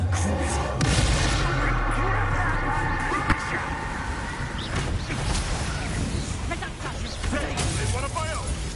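Confringo spell explosions in the video game Hogwarts Legacy, with booming blasts and crackling impacts over a continuous loud battle din, while a voice talks throughout.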